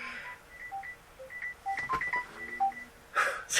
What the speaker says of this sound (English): my phone interrupted